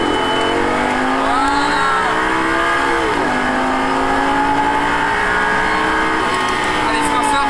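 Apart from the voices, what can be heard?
Lamborghini Gallardo accelerating at full throttle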